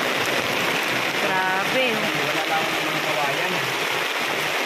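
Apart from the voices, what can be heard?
heavy rain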